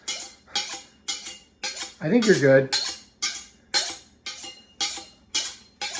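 Rapid, regular knife chops hit a cutting board while chopping basil and rosemary, about two per second, close and crisp, with a brief spoken remark partway through.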